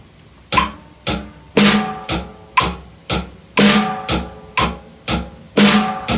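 Hi-hat and snare drum played together as a simple beat against a metronome click, with crisp hits landing in an even, steady rhythm of about two per second, close and alone.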